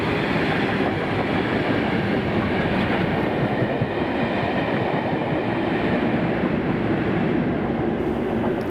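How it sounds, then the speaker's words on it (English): Class 37 locomotive 37219 propels a DBSO test train past on a wet day, a steady loud rumble with wheel clatter and rail noise holding throughout, close by and without voices. "the same test train is then seen at Johnson, with just 37219 pushing the DBSO"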